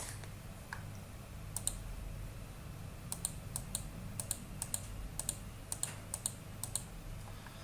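Scattered clicks and keystrokes from a computer mouse and keyboard during software work, a quiet run of sharp, irregular taps over a faint background hiss.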